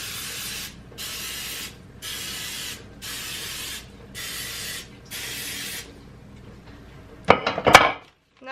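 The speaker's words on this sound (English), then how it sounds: "And I'm going to spray my donut pan." Cooking spray hisses onto a donut pan in six even bursts about a second each, close and clear, followed by a few quick clatters of the pan.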